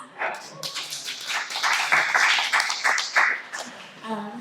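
Audience at a career forum panel applauding for the moderator, a brief burst of clapping mixed with voices and chatter, rising and fading over a few seconds.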